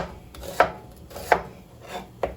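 A knife chops food into strips on a flat cutting board while preparing chicken tinga burrito filling, with four sharp, evenly spaced knocks close up against a quiet background.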